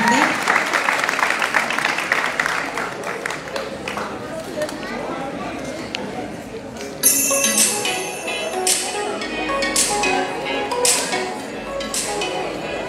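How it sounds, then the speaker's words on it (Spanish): Applause for a contestant at a Fiestas Patrias queen pageant in Colotlán, Jalisco, loud clapping early that fades into crowd noise and talk, with sharp clinking and knocking sounds scattered through the later part. "Brindemos un fuerte aplauso, por favor, a nuestra sexta participante."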